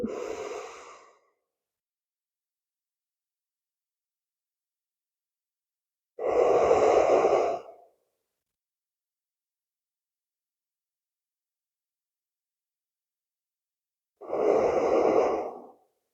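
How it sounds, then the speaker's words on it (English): Three slow, deep breaths during a yin yoga class, each a soft, audible inhale-exhale of about a second, separated by long stretches of silence. "Breathing deep."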